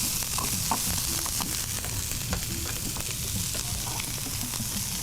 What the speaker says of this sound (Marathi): खूप जास्त नाही परतायचं आहे आपल्याला फक्त थोडंसं टॉस करून घेतलं की